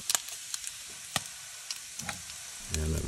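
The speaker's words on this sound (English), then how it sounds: "First, we'll brown the bacon in the butter." Bacon browning in butter in a pan gives a faint, steady sizzle broken by sharp little pops and spatters, with a louder burst of frying near the end.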